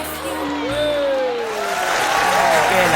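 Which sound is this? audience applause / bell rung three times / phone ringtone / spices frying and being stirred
audience applause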